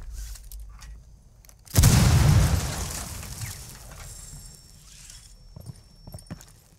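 A grenade goes off in Rainbow Six with one loud, close blast that rumbles and fades over a few seconds. Quieter background noise and a few soft knocks follow.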